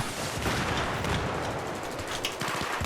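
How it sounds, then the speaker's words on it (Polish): Battlefield 3 gunfire on the Ziba Tower map with a PP-19 in play: dense, rapid bursts of shots crackling continuously over a loud, busy game soundscape. "Ktoś tu strzela po cichu."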